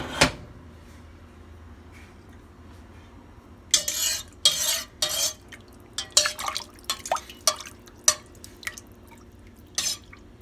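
Coconut milk and sugar stirred together in a bowl with a spoon, giving a run of clinking scrapes and wet drips that start after a few quiet seconds and continue irregularly, close and moderately loud.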